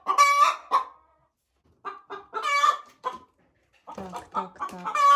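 Ameraucana hen clucking and cackling near a nest box, loud repeated squawking calls in short bursts with quiet gaps between.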